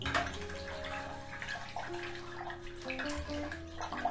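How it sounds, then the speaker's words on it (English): A paintbrush swishes and rinses in a water pot during an acrylic rose painting session, a steady close sloshing and trickling with no talk, over a faint background drone. "give your brush a really good rinse out"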